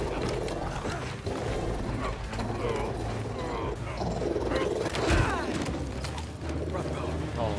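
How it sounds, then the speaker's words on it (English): A mechanical robot dog-cat creature in Spider-Man 2 clanks and whirs with grinding gears and ratcheting creaks, mixed into a busy, continuous fight soundtrack. "Nice doggy kitty robot."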